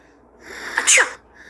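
A single sharp human sneeze, loud and close, with a brief intake building into a bright explosive burst that cuts off quickly.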